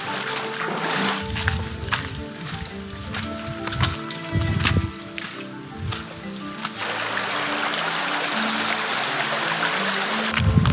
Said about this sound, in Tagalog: Tapos dito, may mini falls pa, oh.